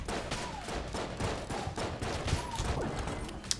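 A small pistol fires in Enter the Gungeon, with rapid repeated shots crackling in quick, uneven bursts over busy game sounds and no talk.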